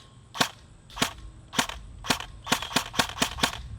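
An ASG CZ Bren 805 airsoft gun fires about a dozen sharp, close snapping shots outdoors, first spaced singly, then in a quicker run of rapid cracks.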